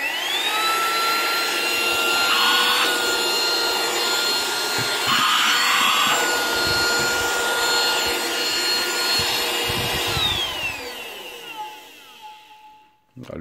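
A Digoo DG-H1 Pro 3-in-1 handheld car vacuum cleaner runs with a steady high whine and rushing airflow, rough scraping and sucking bursts as debris is picked up, then powers down near the end.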